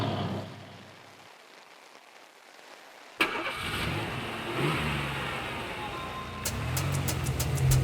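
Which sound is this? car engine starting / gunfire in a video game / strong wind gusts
car engine starting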